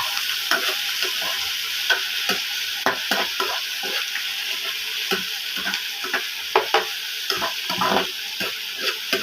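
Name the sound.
sautéing bottle gourd (upo) with sardines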